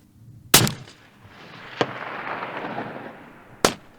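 Rifle shots fired outdoors in mountain terrain during long-range shooting: a sharp, loud report near the start, a fainter crack midway, and another sharp shot near the end, each followed by a rolling echo.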